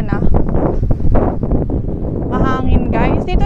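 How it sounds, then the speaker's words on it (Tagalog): Wind buffets the microphone with a steady, rumbling roar near the Confederation Bridge on Prince Edward Island, Canada, while a person talks over it. "Mahangin"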